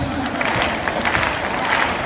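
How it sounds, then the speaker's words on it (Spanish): A crowd at a recortes contest in Valencia claps steadily for about two seconds, a continuous dense applause with crowd voices and talk mixed in. "Pide palmas."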